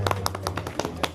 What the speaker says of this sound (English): Round of applause for the appetizer.